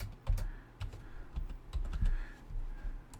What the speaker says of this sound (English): Let's type that password again.